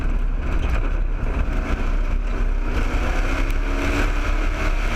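Race car engine gaining speed on a track, driven by a first-time driver easing it up to pace; a steady, loud, close engine drone holds throughout with no clear gear changes.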